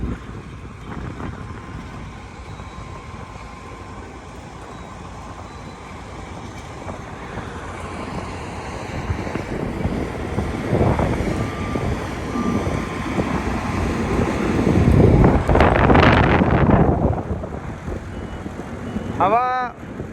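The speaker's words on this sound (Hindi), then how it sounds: "हवा थोड़ी तेज़ है" Strong gusts buffet the microphone at a road-carpeting site on the Malir Expressway, with heavy machinery nearby, the rumble swelling to its loudest about three quarters of the way through alongside distant traffic and a brief tonal squeal near the end.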